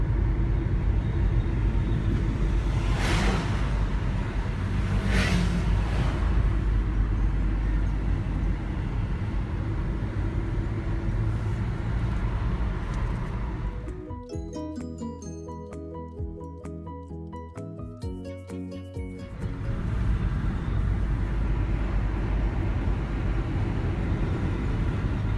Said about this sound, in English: So we're just driving the Amalfi coast,